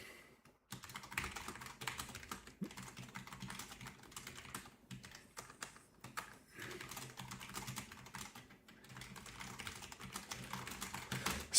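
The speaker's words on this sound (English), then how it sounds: "I'm kind of just typing here" Rapid, uneven typing on a computer keyboard clicks close up, with short pauses between bursts in a quiet room.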